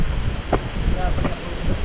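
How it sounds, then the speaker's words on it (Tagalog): Steady wind rushes and buffets over the microphone throughout, with a few brief vocal sounds under the roar. "Lakas ng hangin."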